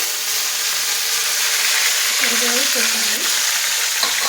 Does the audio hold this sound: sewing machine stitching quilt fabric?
no